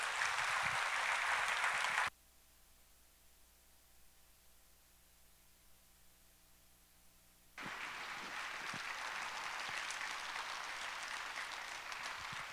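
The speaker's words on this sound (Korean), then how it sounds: "우리 목사님 나오실 때 박수로 한번 환영해 주시기 바랍니다" A church congregation claps to welcome a pastor to the front. A burst of applause cuts off into near silence, then a longer, steady round of clapping starts again.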